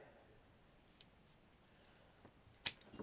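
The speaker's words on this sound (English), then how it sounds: "so I am going to use the scissors" Scissors cut material for a miniature bedroom furniture diorama, making a couple of faint, crisp snips against a quiet room.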